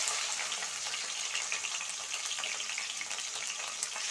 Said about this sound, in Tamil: அது கூடவே கழுவி வச்சுருக்கிற சிக்கன் பீஸ்லாம் போட்டுக்கலாம்.